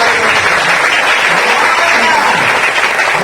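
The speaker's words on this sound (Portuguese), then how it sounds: "Aplauda o Senhor." Church congregation applauding the Lord in a loud, dense, steady burst of clapping during a Portuguese-language sermon, with no break.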